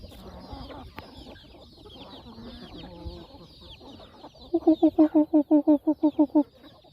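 Chickens clucking in a quick run of about a dozen evenly spaced, fairly close calls, following a stretch of quieter mixed farmyard chatter.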